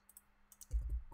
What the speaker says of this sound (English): I'm clicking right now. You can probably hear me.